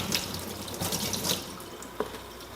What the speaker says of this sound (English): our first step, other than picking it, is really washing it well